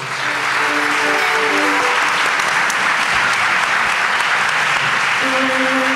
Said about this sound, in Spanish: Un aplauso muy fuerte, por favor, a nuestro compañero, el mago de la técnica, Alberto Espinosa, al sonido.